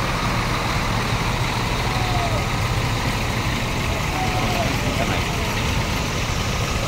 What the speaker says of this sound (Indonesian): bus Senopati sudah mundur teman-teman